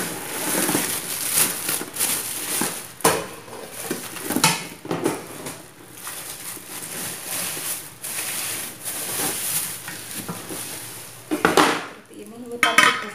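A new set of cooking pots, including a steamer pot, is handled with clinks and knocks of metal, rustling packaging and crinkling plastic throughout, close and fairly loud.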